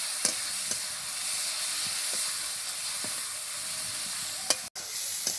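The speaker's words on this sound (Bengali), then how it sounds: "তারপর খুব ভালোভাবে এই মশলাটাকে কষাবো ততক্ষণ না তেল ছাড়ছে।" Spice paste being stir-fried in oil for a fish roe curry gives a steady, soft hissing sizzle throughout, with a few faint scrapes and taps of a spatula against the pan, close and fairly quiet, with no talking.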